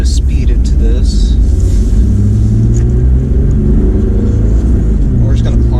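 A third-generation Toyota Tacoma pickup towing a load accelerates onto an interstate, its engine rumbling low and steady up close inside the cab, with road noise droning throughout.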